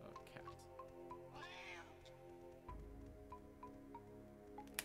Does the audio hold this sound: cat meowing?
yes